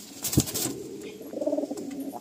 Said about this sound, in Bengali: কামাগার পায়রা ঠিক আছে আমরা রিলিজ করে দিই